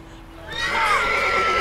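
A horse whinnies in The Witcher 3, a rising, shrill neigh that swells loudly and holds over game ambience after a quiet start.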